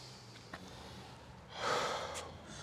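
A person draws a slow, deep breath through the nose, then lets out a longer, fuller exhale, faint and close, with no talking.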